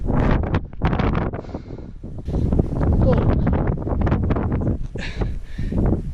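Strong wind buffets the microphone on a narrow Sri Lanka hiking path, roaring in loud, gusty bursts that rise and fall throughout without letup.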